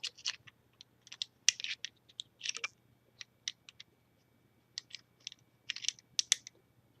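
Bolt and bolt carrier of a WASR-10 AKM rifle taken apart by hand, small close metallic clicks, scrapes and slides in irregular bursts, fairly quiet with no talking.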